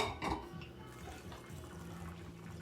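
Water runs steadily from a tap over a cast iron pan being washed with soap in a home kitchen, a continuous close splashing wash with no pauses.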